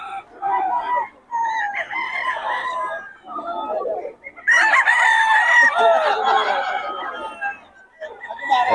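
Bull stag roosters crow repeatedly nearby, with loud, drawn-out calls and some clucking. Someone talks over and between the crows.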